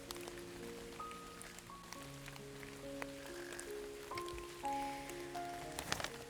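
Steady rain patters on surfaces, soft and continuous, with a few faint tonal calls drifting through the background.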